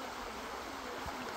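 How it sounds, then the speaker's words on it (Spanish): Water flowing in a river a little way upstream, heard as a steady, continuous broadband rush with faint low splashes, fairly quiet and even throughout with no talk. "está corriendo el agua aquí"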